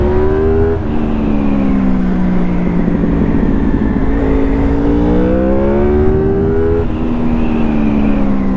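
A 2004 Honda VFR 800 VTEC motorcycle engine with 106 hp, revving loud and close with smooth rising and falling pitch sweeps as the valve system switches from two to four valves, alone without speech.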